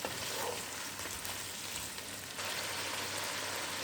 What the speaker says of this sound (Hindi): अब इसको जो है हम थोड़ा सा फ्राई करेंगे ताकि जो लहसुन अदरक का जो कच्चापन है वो भी थोड़ा ख़त्म हो जाए